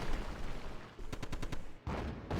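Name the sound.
anti-tank gunfire and grenade in Axis & Allies video game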